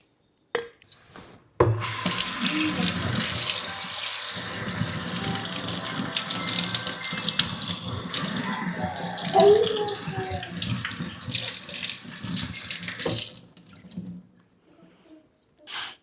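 Tap water runs steadily into a sink for about twelve seconds while something is rubbed and washed under the stream, close by, then shuts off, leaving faint drips.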